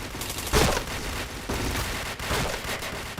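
Gunfire rattles in the online shooter Point Blank, a dense string of rapid bursts with sharp loud shots and little pause between them.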